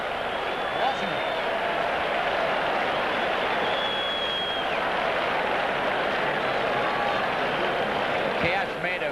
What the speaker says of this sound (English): This crowd is standing up and screaming after every point